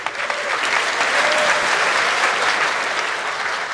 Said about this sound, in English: A round of applause, everyone was very excited.